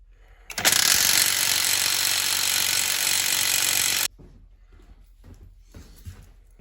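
Impact wrench with a chrome socket hammering a big, dirt-caked nut off an Allis-Chalmers B tractor transmission, one loud, continuous rattling burst of about three and a half seconds, then quieter shop clatter.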